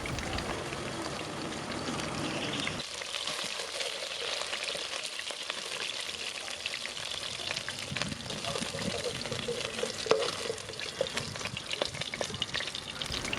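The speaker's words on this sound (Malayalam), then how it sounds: "ഓരോ സൈഡും ഒരു 4 മുതൽ 5 മിനിറ്റ് വരെ നന്നായിട്ടൊന്ന് ഫ്രൈ ചെയ്ത് എടുക്കുക" Oil sizzles and crackles steadily as chicken pieces fry in a pan, with occasional stirring scrapes and a soft voice at times.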